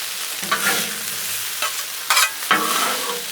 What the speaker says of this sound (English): Mix up our mushrooms back here